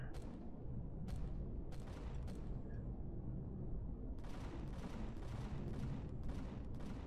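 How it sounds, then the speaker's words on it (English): Quiet bursts of rapid gunfire come from the video game Empyrion Galactic Survival, where players shoot at dinosaurs. The clusters of shots are separated by brief pauses, and no voices sound over them. "What are you guys shooting at?"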